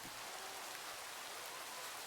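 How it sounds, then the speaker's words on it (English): Rain falls in Minecraft with the Better Clouds mod running, a steady, even hiss of rainfall with no talking and no break in the sound. "Oh, it's raining again! It's the nice rain."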